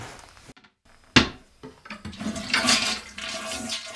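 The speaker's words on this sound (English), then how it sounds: "The toilet has a thin plastic hose that fills it with water." A toilet tank is refilled through a thin plastic hose: a sharp clunk is followed by a steadily building rush and hiss of water filling the reservoir, close and loud with no voices.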